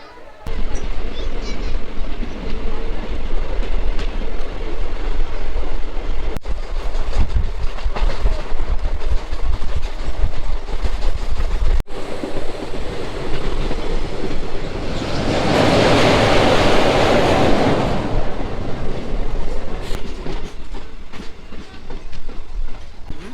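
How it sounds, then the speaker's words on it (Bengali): A train pulls out of Odlabari station on the line through the Dooars forest, its steady rumble and clickety-clack of wheels on rail running loud and close throughout, with a brief hissing burst midway. "এবার ওদলাবাড়ি স্টেশন থেকে আমাদের ট্রেন ছাড়বে"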